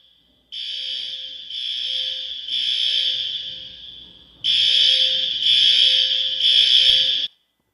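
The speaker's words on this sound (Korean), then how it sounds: "갑자기 집 안에 파이어 알람이 울렸습니다." An apartment fire alarm blares in loud, steady electronic bursts, a run of three long tones, a brief pause, then three more, with no voices over it.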